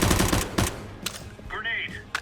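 Rapid gunfire in the video game CS:GO, a quick volley of close shots at the start, then scattered single shots with a player talking between them.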